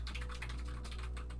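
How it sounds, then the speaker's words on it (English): Steady rapid computer keyboard typing, close and continuous, with a low constant hum underneath and no voices. "We have lots of typing noises."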